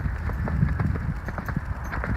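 A horse trotting while lunging in a round pen, its hooves striking in a quick, steady rhythm of dull thuds, close and moderately loud.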